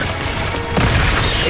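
A fiery Incendio spell cast in the video game Hogwarts Legacy, a short loud whooshing burst of flame over a dense rumbling game soundscape.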